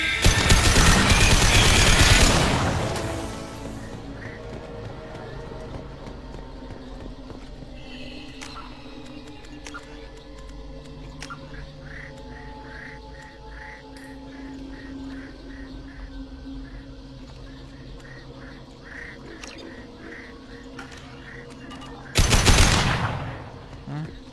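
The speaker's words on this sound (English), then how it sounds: "these guns are loud" Loud bursts of gunfire at the start and again near the end, separated by a long quieter stretch of ambient noise with faint chirping and background tones.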